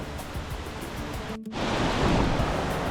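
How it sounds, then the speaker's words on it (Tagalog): Dawo Falls waterfall in Barangay Dawo, heard as a continuous broadband rush of falling water, briefly cut by a short gap midway before the roar resumes slightly louder. "nandito na tayo sa harap ng Dawu Falls"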